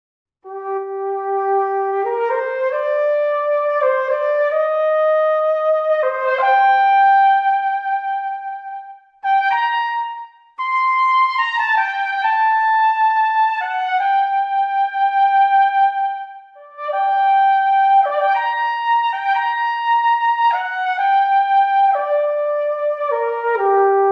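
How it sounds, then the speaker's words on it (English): Solo cornet from a sampled brass band library, playing a smooth lyrical melody in its high register, with connected sustained notes and a couple of brief pauses, clear and alone. "the solo cornet, which is at the higher register, higher than a tenor horn."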